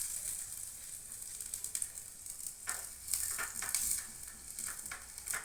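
Onion, tomato and garlic paste sizzles in oil in a tiny miniature kitchen pan, a faint, steady crackling fry with brief stirring bursts and no voices.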